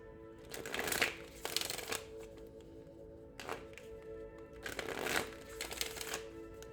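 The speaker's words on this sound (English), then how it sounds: "Let me reshuffle these." Tarot cards shuffled by hand during a reading, giving repeated bursts of riffling and papery slapping in three clear waves with softer handling between them, close and fairly quiet, with no speech.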